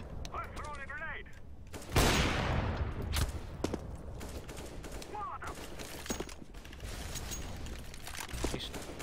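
Gunfire in the Counter-Strike video game on the Cache map: close rifle shots and scattered bursts echo, with a heavy blast early on, dense and continuous under faint talk.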